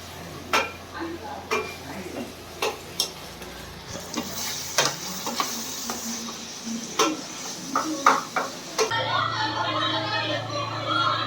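Chicken frying and being stirred in a pan with chicken masala and chilli powder: a steady sizzle with repeated sharp scrapes and clinks of a utensil against the pan, growing louder and denser near the end, with no talk.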